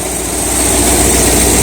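Exhaust on a 1978 El Camino with a slight leak at a joint in a makeshift exhaust system, heard as a steady, loud engine drone with a hissy, breathy edge running continuously close by.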